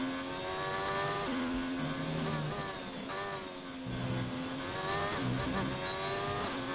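An F1 race car in the F1 2019 video game at China brakes hard into a corner and then accelerates again, its engine note dipping and climbing through gear changes, steady and unbroken with no voices.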